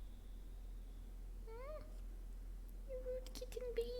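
A kitten meows indoors, a couple of rising and falling mews in the middle followed by a longer, louder cry near the end, close to the mic over a low room hum, with no talking.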